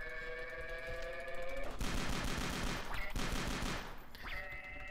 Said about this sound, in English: Take out your gun and shoot